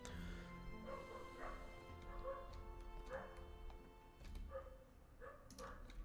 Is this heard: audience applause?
no